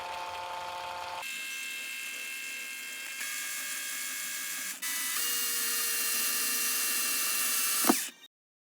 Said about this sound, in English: Using my drill, I drilled a small hole into the side of the first valve.